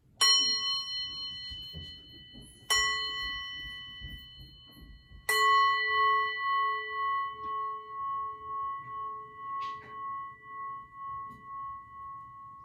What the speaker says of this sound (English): we're going to start by ringing the bell